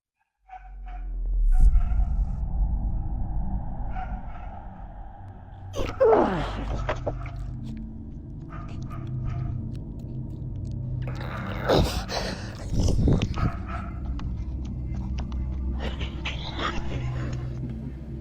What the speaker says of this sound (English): A series of guttural, wet-sounding grunts and wheezing roars erupts from the direction of the woods.